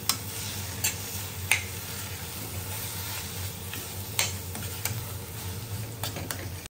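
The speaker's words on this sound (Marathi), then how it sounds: "आता मिक्स करून घेऊ मस्त छान" Paneer bhurji being stirred in a hot pan, soft sizzling underneath a series of sharp utensil taps and scrapes against the pan, close and fairly quiet, no speech.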